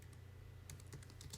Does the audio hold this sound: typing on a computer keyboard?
yes